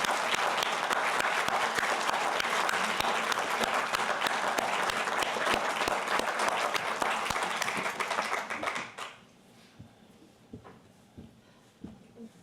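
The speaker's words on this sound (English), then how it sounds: "please give Quinton a warm round of applause" Warm, dense applause from a conference audience welcoming a speaker to the stage, loud and steady for several seconds before quickly dying away to a few scattered claps and quiet room noise.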